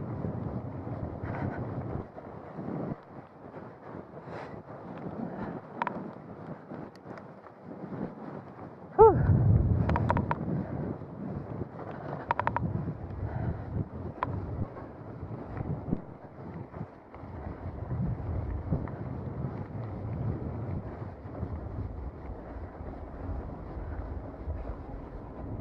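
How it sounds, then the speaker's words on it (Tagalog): Strong gusting wind buffeting the microphone on a mountain bike trail, uneven rumbling bursts that rise and fall throughout, with a loud gust midway. "Lakas ng hangin."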